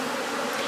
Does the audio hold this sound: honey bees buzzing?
yes